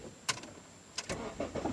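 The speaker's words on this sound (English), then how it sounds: "start the engine and check." A 2008 Honda Civic 1.8 with a stuck-open thermostat cranks and fires up, with a few clicks and short bursts before a low engine rumble settles in, fairly faint and heard alone.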